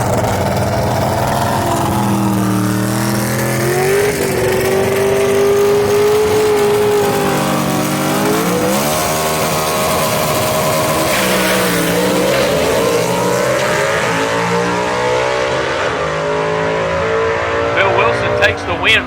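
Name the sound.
gasser drag race cars running, including a 63 Chevy II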